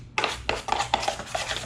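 Durabond joint compound for sheetrock being stirred in a container, a series of scraping, clinking strokes in an uneven rhythm, close and fairly quiet.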